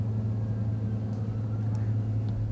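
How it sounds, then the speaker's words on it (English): Steady low engine rumble of cars passing outside a night film shoot, a continuous near drone with no clear individual pass-bys. "We just keep getting cars driving by, though."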